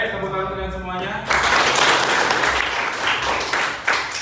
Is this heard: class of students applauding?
yes